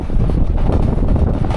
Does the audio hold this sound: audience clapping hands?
no